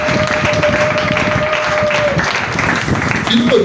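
A church congregation at a Thursday teaching service applauds and cheers for the ministry, a loud continuous wash of clapping and voices, with a speaker talking over it.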